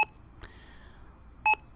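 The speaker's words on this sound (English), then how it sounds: "it will give you the triple beep to let you know the value is complete." A Magellan barcode scanner being programmed gives short electronic beeps, one at the start, a faint one just after, and a brighter, louder beep near the end, in a quiet room with no talking.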